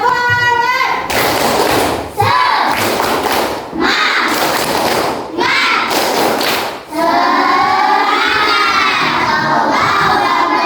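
Schoolchildren in a classroom perform a loud rhythmic clapping cheer, tepuk semangat, in several bursts of claps, thumps and excited shouting and chanting voices over about ten seconds.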